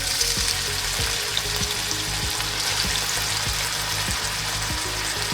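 Onion frying in olive oil on a stove at medium heat, a dense, steady sizzle close by, with faint regular low ticks underneath and no voices.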